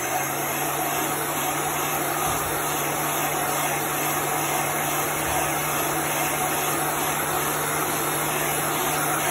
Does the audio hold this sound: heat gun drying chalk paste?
yes